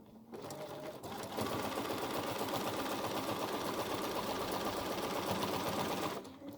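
A sewing machine quilting a straight line beside the edge of tape on a quilt, running steadily and loudly for about five seconds with a fast even whir of stitches, starting and stopping cleanly.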